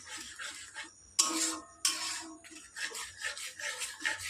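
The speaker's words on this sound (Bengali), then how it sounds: "তো চলো এবার কন্টিনিউয়াসলি নাড়াচাড়া করতেই থাকতে হবে" Raw mango jelly being stirred continuously in a pan, a soft steady scraping and rubbing of the spoon against the pan with two sharper knocks partway through, close and fairly quiet.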